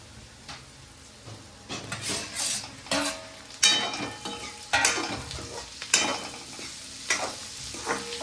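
Onions frying in a pan in a home kitchen keep up a steady sizzle, while a spoon stirs with repeated scraping and clinking strokes roughly every second, close by, with no speech.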